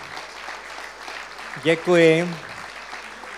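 An audience claps steadily at a talk about Amazonian Indians, a continuous wash of applause heard from a distance while someone briefly says thanks over it.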